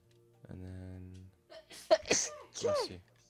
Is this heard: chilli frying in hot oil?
no